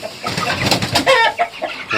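A Faverolles rooster and hen cluck close by on a farm, with a busy run of short, overlapping clucks and calls that holds steady throughout.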